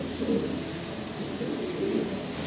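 Fancy pigeons, a large imported breed, coo steadily in soft low rounded bursts, close by and alone throughout.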